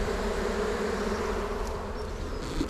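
Honey bees buzz around an open beehive as a queen excluder goes on, a dense steady hum of many wings filling the air without a break and close by.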